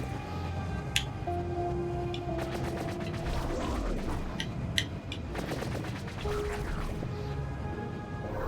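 Gunfire in the video game Hauntii, a dense run of rapid mechanical shots and clicks with sharp transients over steady game music and ambience, loud and close throughout.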